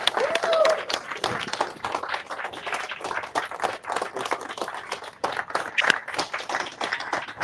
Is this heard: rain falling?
no